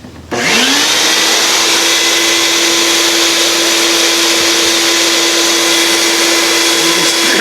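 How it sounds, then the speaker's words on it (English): A vacuum cleaner in exhaust mode, blowing out a car air filter, starts up abruptly and runs as a steady, loud, high-pitched whine with a constant hum, close by and uninterrupted. "we switch the vacuum over to the exhaust mode. We'll turn it on."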